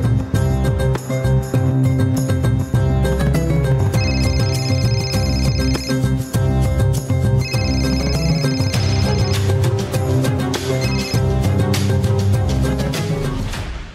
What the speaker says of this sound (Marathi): आता अनुजही फोन घ्यायचं बंद केलंस की काय?